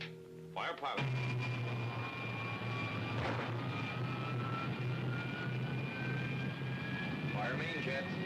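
A rocket ship's pilot jet fires in an old radio serial, a steady roaring engine drone with a high whine rising slowly over it, starting abruptly after a clunk and continuing loud and unbroken.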